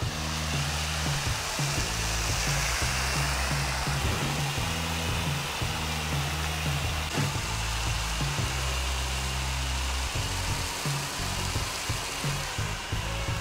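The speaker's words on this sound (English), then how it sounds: "Apply to the vehicle simply by squeezing the trigger." Dirty Steve banana foaming car wash sprayed onto a vehicle from a trigger sprayer, a steady soft hiss of spray running continuously, close and fairly quiet, with no voices.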